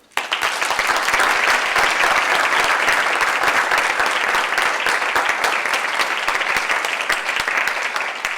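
A lecture audience breaks into loud, sustained applause to welcome the speaker, a dense wash of clapping that starts abruptly and holds steady before easing slightly near the end.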